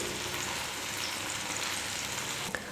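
A gram flour snack cooking in a pan over a medium flame gives a continuous, even, fairly quiet sizzle and bubble, with one small tap near the end.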